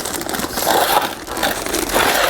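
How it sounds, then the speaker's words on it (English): A plastic bag is pressed and worked into the collar groove of an Ermator T8600 machine, giving a close continuous crinkling and crushing rustle. "So I'm going to work the plastic bag down into that groove."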